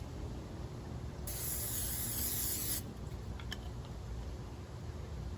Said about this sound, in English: let's take out the air fryer basket and spray it with a cooking spray